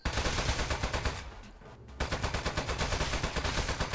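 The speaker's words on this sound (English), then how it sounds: "We're not allowed to keep shooting at them!" Loud, rapid automatic gunfire in the video game Aperture Desk Job, bursts of shots that briefly drop off and then resume in a steady rattling stream.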